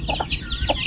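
A chicken clucks in a few short, close bursts at a farmhouse on a rainy morning, with faint background noise.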